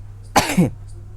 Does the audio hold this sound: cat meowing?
no